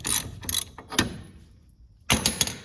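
Ratchet wrench clicking in short bursts while loosening a bolt on the front of an 88-98 Chevy truck, a few quick ratcheting strokes close up, then a pause and another burst.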